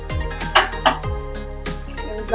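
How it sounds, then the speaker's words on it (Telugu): A metal pan is set on a kitchen stove with a couple of bright clanks and scrapes of cookware, close and fairly loud, then a low steady hum. "స్టవ్ ఆన్ చేసుకొని ప్యాన్ పెట్టుకొని"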